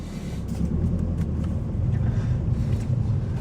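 A manual-transmission car pulls away in first gear, its engine giving a steady low rumble that holds even and close throughout.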